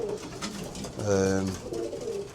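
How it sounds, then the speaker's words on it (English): Racing pigeons coo in an allotment loft, a low, rolling coo swelling near the middle of the short stretch over a steady bed of other birds murmuring close by. "We've got one of the Ronnie Dodd pigeons down there, one in the corner of Ronnie Dodd's."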